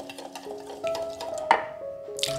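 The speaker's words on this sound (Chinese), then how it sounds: "植物油和可可粉混合" Vegetable oil and cocoa powder being stirred together in a bowl for Black Forest cupcake batter, a soft, close scraping and clinking of a utensil with small ticks, no voices.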